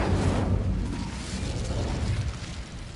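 Fiery Incendio spell cast in a Harry Potter video game: a loud burst that rumbles and fades over a few seconds, heard alone.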